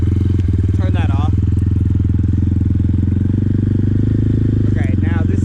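A Kayo T4 dirt bike engine idles loud and close with a steady throbbing rumble and a couple of brief blips, running continuously through the clip.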